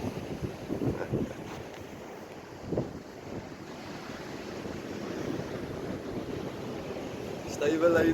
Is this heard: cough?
no